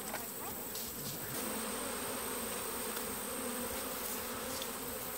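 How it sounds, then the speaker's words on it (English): Steady, dense buzzing of many honeybees at a honey harvest, continuous and fairly close, with a few higher whining passes drifting in and out. "always get a few bees in the house"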